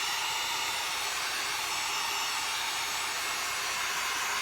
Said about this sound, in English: And then I just take my fast dry it with your craft tool or your hair dryer or whatever you got.